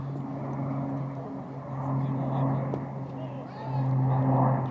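A propeller airplane drones overhead during a cricket match, a steady low hum swelling and fading across the clip.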